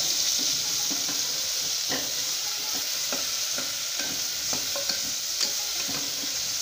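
Chopped large onions sizzle in hot oil in a pan, with a constant frying hiss and repeated scrapes and taps of a spoon stirring them, close up.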